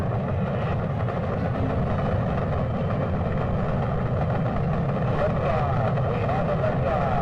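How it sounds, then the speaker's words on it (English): Rocket engines roar at liftoff in a steady, dense, full-band rumble that stays loud and even all the way through, with a broadcast voice speaking over the thunder. "Liftoff. We have a liftoff."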